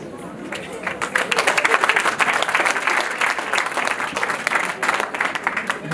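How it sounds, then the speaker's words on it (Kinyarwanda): A large crowd at a live performance bursts into dense, loud applause that holds steady for several seconds, with voices mixed into the clapping. "amashyi menshi cyane gushimira abatahira"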